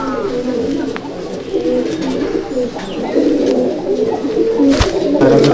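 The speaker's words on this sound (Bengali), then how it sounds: "এইগুলো ধান্যবালে পায়রা" Malbai/Panjabi pigeons coo steadily inside a loft, several birds overlapping in continuous low rolling calls, close and fairly loud, with a brief sharp knock near the end.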